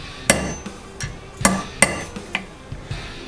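A hammer taps a metal snap setter on a leather 9mm magazine carrier set on a hard surface: about seven sharp, ringing strikes at uneven intervals, some firm and some lighter, clear and close with nothing else around.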